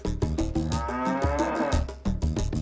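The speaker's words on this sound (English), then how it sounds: "Their cows are doing so well." Dairy cows on a smallholder farm in Bomet moo loudly and close by, several long, deep lowing calls overlapping in quick succession with no talk.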